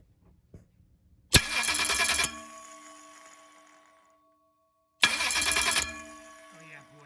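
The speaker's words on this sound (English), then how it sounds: "That's how the starter should be engaging." A Ford starter motor engages and cranks the engine in two loud, close whirring bursts, each under a second long, separated by quiet, with a brief voice near the end.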